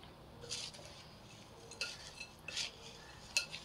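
Puffed rice, onion, tomato and lemon being tossed in a bowl for Mumbai-style bhel, giving four soft, quiet bursts of scraping and clinking spaced roughly a second apart.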